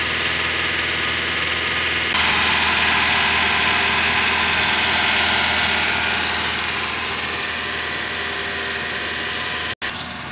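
A Toyota Avanza or Daihatsu Xenia with a dual VVT-i engine idles steadily during a 4-in-1 tune-up, its hum and hiss close and continuous, slightly stepping up in level partway through before a brief dropout near the end.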